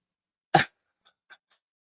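A dog lets out one sharp, close bark, then a couple of much fainter yips follow in otherwise quiet surroundings.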